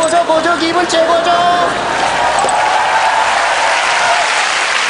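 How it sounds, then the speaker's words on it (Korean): A studio audience at the KBS comedy show Gag Concert claps in a dense, fairly loud burst of applause that fades gradually, with performers' voices talking over it. "왜 박수를 치지 맙니까?"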